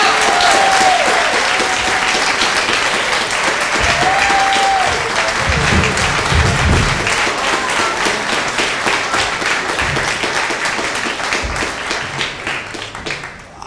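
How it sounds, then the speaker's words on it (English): Loud, sustained clapping from a summit audience in Seattle greets a speaker's introduction. The dense applause of a big crowd runs for about fourteen seconds and tapers off at the very end, with a few brief tones and murmurs underneath. "please join me in giving a warm and thunderous applause"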